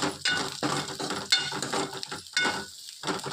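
Ingredients sauté in a pan while making kara paniyaram, with a sizzling hiss broken by repeated scraping, stirring strokes and light clinks of a utensil against the pan. The sound is close and comes in short, uneven bursts.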